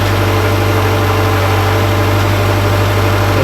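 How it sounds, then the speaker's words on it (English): A 2005–2012 Subaru engine idles steadily and loudly up close during a camshaft timing test for P0028 and P0026 codes, giving a constant low rumble with a faint steady hum. "you should hear it idle a little different because you're turning the camshaft, so you're advancing the cam"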